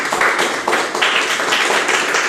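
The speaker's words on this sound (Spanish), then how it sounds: "Vamos a darle un fuerte aplauso al Señor" A church congregation claps for about two seconds in a quick, uneven burst of hand claps, close and fairly loud, with no talking over it.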